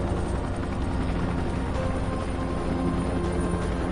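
A helicopter in the zombie game Dying Light thunders with a steady, dense rotor roar that holds at full loudness without a break.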